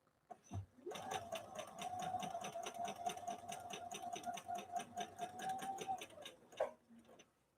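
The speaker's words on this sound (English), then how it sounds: "So here goes a straight stitch, and then we'll follow it up with a zigzag." A Bernina Activa 130 sewing machine runs a straight stitch, its needle ticking in a fast, steady rhythm with a constant motor hum for about six seconds before slowing to a stop. It is close and clear, with no talking.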